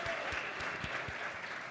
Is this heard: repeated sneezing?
no